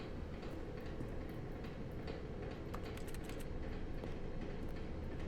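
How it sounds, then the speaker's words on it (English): A train-like rumble from the video game The Stanley Parable: a steady, faint rolling drone with light ticking clicks running through it, and no talk. "It sounds like a train."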